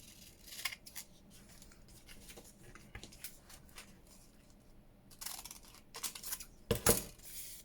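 Scissors trimming washi paper for a junk journal collage, with quiet close snips and paper rustles scattered through, building to a few louder cuts near the end.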